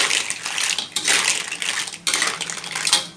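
Clams are stir-fried over high heat in a pan for a chili paste and basil dish. Loud, close rattling and scraping of shells against the metal comes in repeated bursts as they are tossed, with no talking.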